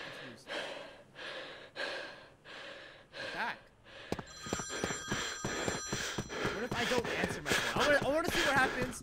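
A phone rings repeatedly in short electronic bursts, joined by gasps and breathing, with talking and game sounds throughout.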